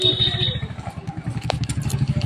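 A motorbike on a quiet, empty road beside a temple, its engine throbbing in a steady, rapid low pulse close by.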